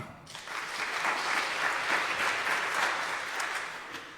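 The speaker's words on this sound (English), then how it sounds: "Clap." A church congregation claps during a sermon to show its choice, with the clapping swelling quickly after a short pause and then holding steady before easing off.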